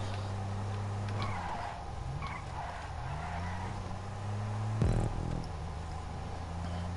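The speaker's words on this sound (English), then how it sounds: "Does sound good, this car." The Rune Cheburek car in Grand Theft Auto 5 revs and drones through gear changes, engine pitch rising and falling, with a brief sharp burst of tire noise near the end.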